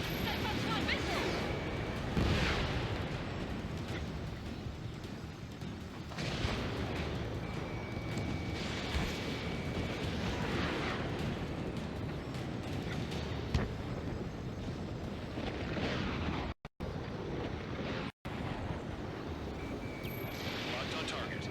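Missile blasts and rumbling jet combat in the Ace Combat 7 flight game, a dense, continuous roar with repeated heavy bursts swelling through the mix, while game radio voices talk over it.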